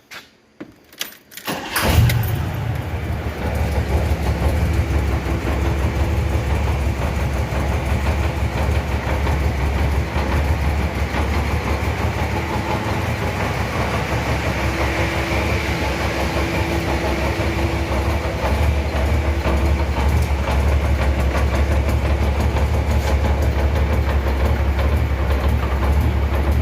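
A Black Widow motorcycle fitted with new exhaust pipes starts with a few short cranks, then settles into a loud, deep, steady idle that rumbles on at close range, with no talk.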